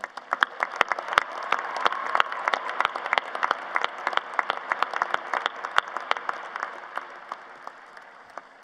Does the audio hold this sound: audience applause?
yes